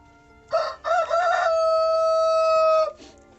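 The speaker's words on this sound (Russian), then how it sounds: "Ну, петух, больше не будешь кричать?" A rooster crows once up close in a snowy Krasnodar winter yard, a couple of short opening notes giving way to a long, loud, steady held call that cuts off abruptly, followed by a brief cluck.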